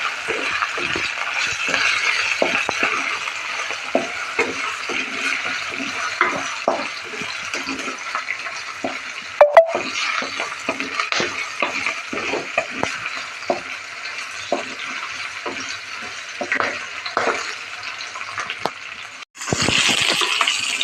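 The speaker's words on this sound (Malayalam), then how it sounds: "ഇത് ഇത്രയും ഇട്ടതിന് ശേഷം നല്ലതുപോലെ ഒന്ന് വഴറ്റിയെടുക്കുക" Curry leaves, ginger, garlic and green chilli sauté in a pan for a fish curry, giving a continuous soft sizzle with many scraping stirs of a spoon against the metal and one sharp clink midway.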